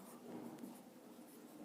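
Marker or chalk strokes scraping across a classroom board, steady and continuous at low level, with faint room ambience and no talk during the writing.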